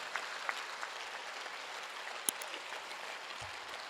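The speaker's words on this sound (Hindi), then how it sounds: "दोनों हाथ उठाकर 1 मिनट की तालियां" Faint, distant applause from an audience at a Hindi comic poetry gathering in Kolkata, a soft steady patter of many hands with a couple of sharper isolated claps standing out.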